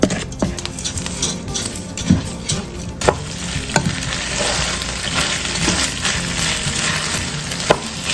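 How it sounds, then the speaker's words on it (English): Rice stirred and tossed through melted butter in a pan, toasting: steady sizzle with repeated scrapes and clinks of a utensil against the pan, plus occasional sharper knocks, close and continuous for several seconds. "I'm going to put the rice in, and I'm just gonna toss it around a little bit just to spread around the butter."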